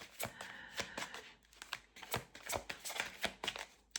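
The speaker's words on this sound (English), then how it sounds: "I need to get bigger hands because I struggle to shuffle the thicker decks of cards." A thick deck of tarot cards is shuffled by hand in a series of quick, papery riffles and soft snaps, irregular and close, with no voice.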